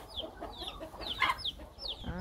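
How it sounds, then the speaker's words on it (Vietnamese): Two caged roosters raised for fighting, giving short repeated clucks and chirps up close, with a brief crowing-like call near the end. "Trong đây là có hai con gà trống đang bị nhốt nữa"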